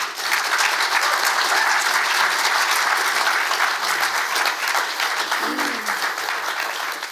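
Steady audience applause fills the room at an author talk, sustained clapping from a seated crowd at an even level throughout, with no voices over it.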